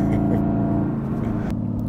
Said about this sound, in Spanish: este carro suena igual o mejor que los NA de AMG